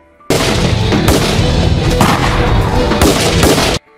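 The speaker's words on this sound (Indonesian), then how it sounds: "Saat baku tembak terjadi, Dao Feng terkena tembakan di bahunya" Loud, dense gunfire from a film shootout in a continuous burst lasting a few seconds, with rapid overlapping shots and booms, then an abrupt stop.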